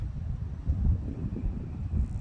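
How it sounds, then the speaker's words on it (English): Strong wind buffets the microphone, producing a continuous low rumbling roar with gusty surges and no clear voices. "there's a nice strong breeze blowing today"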